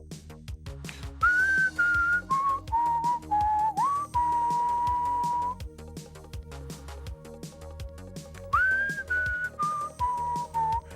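A person whistles a melody of bright sustained notes and pitch glides over a rhythmic music backing, loud and close, in two phrases separated by a short gap.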